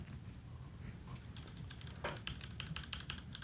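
Typing on a mechanical keyboard with Cherry Red linear switches, quiet and close, starting with scattered keystrokes that quicken into a rapid burst of clacks in the second half.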